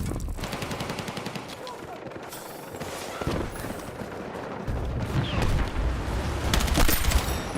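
Bursts of light machine gun fire crackle in rapid strings in Battlefield 6, with distant booms among them. Someone talks over parts of the firing.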